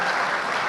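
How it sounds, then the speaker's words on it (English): Applause for former cricketer Anil Kumble at a talk on cricket and legacy, a brief dense wash of clapping filling the hall at steady loudness. "Can we have a big round of applause for Anil Kumble,"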